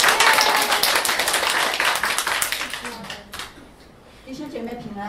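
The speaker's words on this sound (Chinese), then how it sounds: "拍手欢迎她。" A church congregation claps in welcome during a Sunday service, dense steady applause filling the room for about three seconds before tapering off into quieter murmurs.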